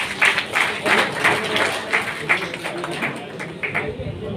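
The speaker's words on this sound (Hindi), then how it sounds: "उनके लिए जोरदार ताली।" Applause from a crowd at a BJP political rally in India, broken rhythmic clapping of moderate loudness with a voice speaking over it.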